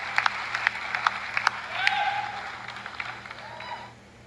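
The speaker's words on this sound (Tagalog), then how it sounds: "Hindi na tatapos yung palakpak eh." Continuing applause in a congressional session, sustained crowd clapping with scattered louder claps and murmuring voices, gradually fading near the end.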